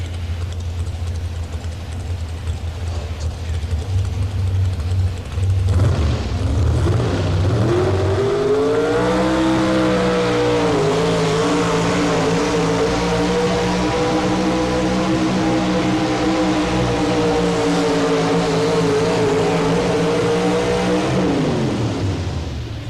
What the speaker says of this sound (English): They've readjusted the sled, and Buddy has readjusted the gears in the truck